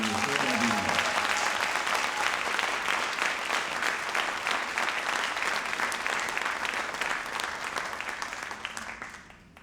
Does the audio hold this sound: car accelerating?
no